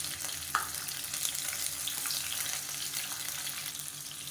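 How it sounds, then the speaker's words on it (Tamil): Tomatoes sauté in oil in a pan for chutney, a dense, steady sizzle throughout with a small clink early on. "இதையும் இப்போ எண்ணெயில் நல்லா வதக்கி எடுத்துக்கலாம்."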